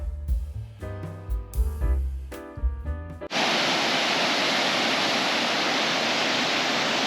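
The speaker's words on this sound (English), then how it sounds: "And this is at the bottom of the falls." A waterfall roars at the base of the falls, a dense, loud, steady wash of white noise that cuts in abruptly after a few seconds of music and holds unbroken.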